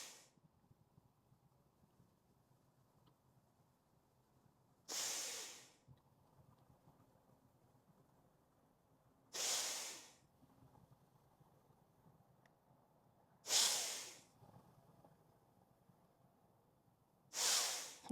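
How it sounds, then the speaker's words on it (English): Four forceful nasal exhales in a breathing exercise, each a short, sharp hissing puff spaced several seconds apart over a quiet background. "Exhale, press the belly out, exhaling with force through the nose."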